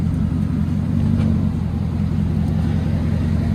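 A 2008 Hummer H3 Alpha V8 with true dual straight-pipe exhaust and no mufflers gives off a deep, loud, steady rumble at close range, with no talk over it.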